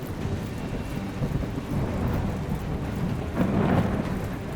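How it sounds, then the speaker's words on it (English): A thunderstorm rages in the naval battle game War Sails, with steady rain and a broad rolling rumble of thunder that swells louder toward the end, continuous and enveloping with no talk. "I love the sound effects. We're fighting them in the midst of a storm."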